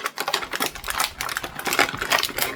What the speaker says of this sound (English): Oh, the struggle trying to get it out of the plastic.